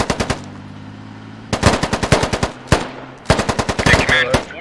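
Automatic machine gun fire in the Squad video game during a one-life event: loud, close, sharp bursts of rapid shots with brief pauses between volleys, and a voice faintly under the opening.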